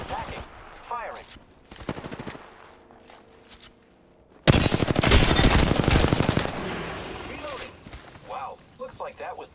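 Rapid automatic gunfire in the video game Apex Legends, scattered short bursts at first, then a loud sustained volley for about two seconds before it thins out, with a voice speaking in between the shots.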